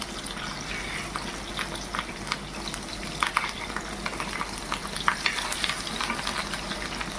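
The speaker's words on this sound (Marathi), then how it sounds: "आपला इकडे अंडा होतो तव्यामध्ये" Fish roe sizzles steadily in a flat tava, filling the pan, with a constant close crackle of frying and scattered sharper pops throughout, no voices.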